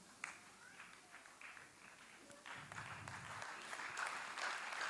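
A church congregation claps during a worship service, faint and distant at first, then swelling into a fuller, denser ovation toward the end.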